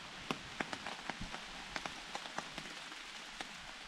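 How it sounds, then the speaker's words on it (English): Rain patters on a tarp at a backcountry campsite on the Long Trail, with scattered distinct drops ticking irregularly over a soft, continuous hiss, close and fairly quiet. "It's been raining for about 20 minutes,"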